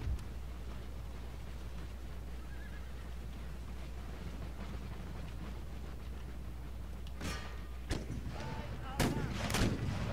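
Artillery fire in the Empire Total War Darthmod game, several distant booms breaking through a steady low battlefield rumble late in the clip, with horse whinnies and faint voices behind.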